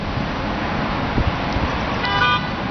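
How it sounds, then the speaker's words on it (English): A car horn honks from the street far below, a short harmonic toot near the end, set against a steady wash of traffic noise. "as a nervous motorist honks from"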